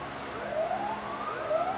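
Wailing police and fire truck sirens from emergency vehicles moving along a rainy parade route, a rising and falling tone that sweeps up twice at moderate distance over steady rain and crowd noise.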